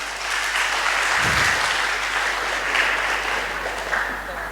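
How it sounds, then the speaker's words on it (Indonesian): An audience gives a seminar speaker sustained applause, with dense, even clapping that holds steady and a voice briefly audible beneath it. "Aplaus untuk Pak Dr. Ibrahim"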